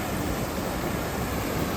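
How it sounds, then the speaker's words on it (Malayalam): A waterfall rushes with a steady, dense roar, close and constant, without any voices. "വെള്ളച്ചാട്ടം"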